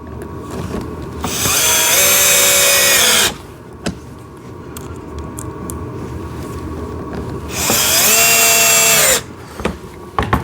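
A power drill drives small screws into a toy ride-on tractor, with two loud, sustained whirring runs of about two seconds each, separated by quieter handling sounds.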